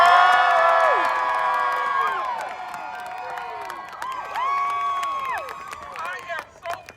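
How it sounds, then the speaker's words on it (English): Little Rock Central students protesting the LEARNS Act cheer, whoop and yell together as a loud outdoor crowd, with many overlapping rising and falling shouts that slowly ease off and then swell again. "let's give a loud yell for these students out here."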